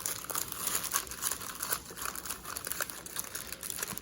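Trading cards shuffled together by hand for a Burst of Destiny opening, a steady close crinkling and papery rustle with soft flicks running throughout, no talk.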